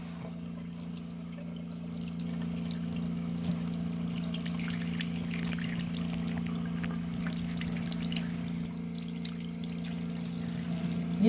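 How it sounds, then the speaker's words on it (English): Warm water runs steadily from a tap into a sink, a continuous even rush with a low hum underneath, close and alone with no talking. "So I turned on the hot water, just want to test it out to make sure it is warm"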